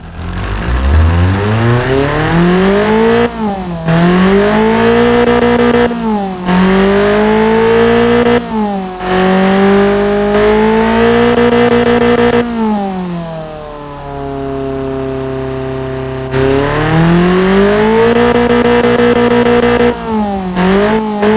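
A tuned Toyota 2T-G engine in the Automation game starts and revs hard, its loud tone climbing and falling in repeated throttle blips, dropping to a steady idle midway before rising again, with no voices.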